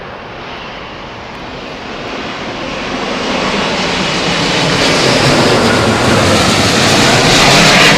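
An airliner landing at Heathrow Airport in gusty wind, a loud jet engine roar that steadily builds and grows brighter as the aircraft approaches, with no talking.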